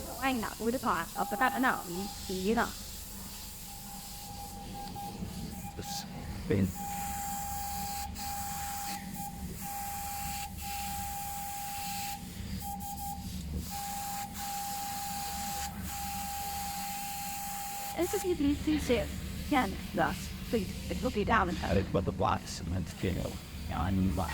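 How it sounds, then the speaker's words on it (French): An airbrush sprays paint onto handmade swimming fishing lures, producing a steady, fairly quiet hiss with a thin whistling tone that runs for several seconds, bracketed by clattering handling noises and voices at the start and end. "Et ensuite, elle va passer l'aérographe."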